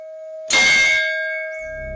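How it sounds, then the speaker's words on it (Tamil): A single loud strike of a temple bell, a bright clang followed by a long ringing tone that slowly decays, with a low rumble creeping in at the end. "மணி சத்தமா அடிக்க தொடங்குச்சு."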